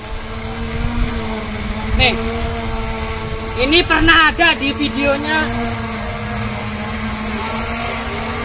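A DJI Mavic Pro drone hovers in a steady, loud, high whine with a constant tone throughout, while someone talks close by over it.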